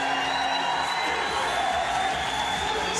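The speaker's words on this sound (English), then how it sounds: "Still the crowd are chanting and cheering." Dense, steady roar of a large arena crowd cheering and chanting after a Conor McGregor fight in Dublin, sustained and loud throughout with no clear individual voices.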